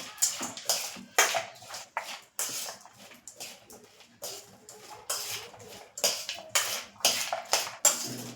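Masala being stirred in a bowl for wheat-flour basket chaat puri, a steady run of spoon scrapes and clinks against the bowl, close and fairly loud, with no one speaking.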